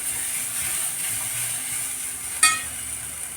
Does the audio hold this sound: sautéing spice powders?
yes